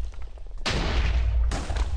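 Two heavy booms from a cannon firing in a video game match, each a sudden loud blast with a deep rumbling tail, the second following about a second after the first.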